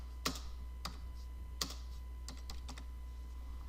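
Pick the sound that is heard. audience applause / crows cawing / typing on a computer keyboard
typing on a computer keyboard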